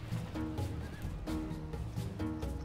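Horses in the battle game Third Age Reforged whinny and neigh repeatedly amid the clatter of a routed cavalry unit, loud and layered in several overlapping calls with no voices.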